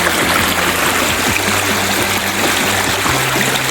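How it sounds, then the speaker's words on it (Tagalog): A stream flows steadily at a rural property's water source in Buenavista, Quezon, a constant close rushing and trickling wash with no voices. "Yan, ganyan kaganda po yung flow ng ating tubig."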